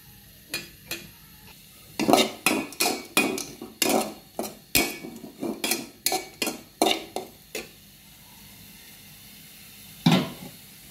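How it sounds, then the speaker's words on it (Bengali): A knife chops vegetables into thin slivers on a board, a quick run of crisp, even cuts close up, then a pause and one last chop, with no talking. "তো এটাই এভাবে করে সবগুলো আমি কেটে নিব"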